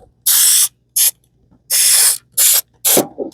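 Adhesive sprayed from an aerosol can in five sharp hissing bursts of varying length, close and loud, separated by short silences, with a faint rustle after the last burst.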